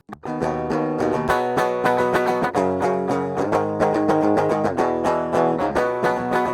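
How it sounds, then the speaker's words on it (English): Clean, unprocessed electric guitar playing rhythmic chords alone, bright and dry with no amp coloring. "Yeah, nice clean sounding DI."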